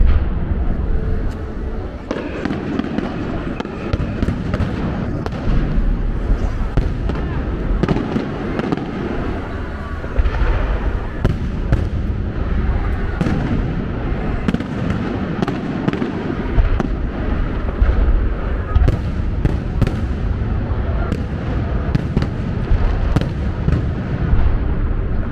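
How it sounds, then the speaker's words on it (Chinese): A fireworks show at E-Da (義大) fills the air with continuous rapid bangs, crackles and booms, dense and loud over a steady roar, with faint crowd noise underneath. "有看到现在正在放的烟火"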